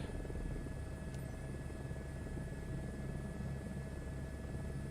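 A helicopter in Microsoft Flight Simulator 2024 hums steadily as a dense, continuous rotor and engine drone that fills the whole stretch at an even level, with no voices.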